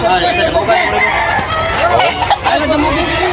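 A rooster crows close by at a gamefowl sale in Tabunok, Talisay, its strained calls rising over a dense, noisy crowd of voices and other birds.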